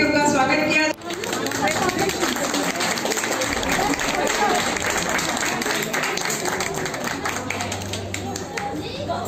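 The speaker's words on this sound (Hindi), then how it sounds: "जोरदार तालियों से उनका स्वागत किया" An audience applauds to welcome a guest at a Hindu organisation's event in Mau, sustained clapping from a crowd with chatter and voices mixed throughout at fairly even loudness.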